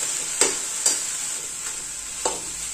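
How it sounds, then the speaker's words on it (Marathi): Steamed mung beans with spices are sautéed in a pan, giving a soft steady sizzle broken by a few sharp stirring scrapes, close and alone without talk. "आता इथे चांगलं हे परतून घेतलेलं आहे."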